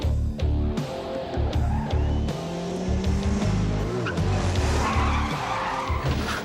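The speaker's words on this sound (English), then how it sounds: "There's Cordelia whacking into the car in front of her." A car skids with loud tire squeal and engine roar before slamming into the car in front, close and dense with crunching impact noises and further screeching.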